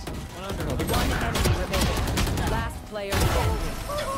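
Judge shotgun blasts in Valorant, a dense run of sharp firing shots and booms layered with other game gunfire, loud and close throughout, with voices talking over the action.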